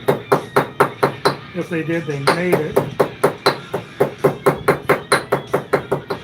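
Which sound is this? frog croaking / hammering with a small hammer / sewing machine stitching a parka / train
hammering with a small hammer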